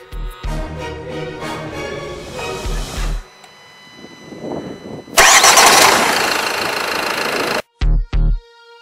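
A Renault car engine starts up close for a test drive: a few low bursts, a pause, then a loud roaring catch that holds for a couple of seconds before two short revs.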